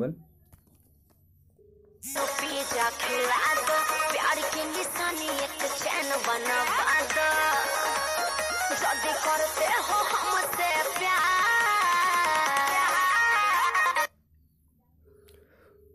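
An Android phone plays a video ringtone as an incoming call rings, a loud, music-like tune that starts abruptly, plays steadily for about twelve seconds and cuts off sharply, with quiet moments before and after.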